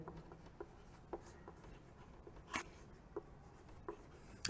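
Pen or marker strokes writing out a maths identity on a board or page during a class 9 algebra lesson, faint scratchy taps and short scrapes at irregular intervals over quiet room tone.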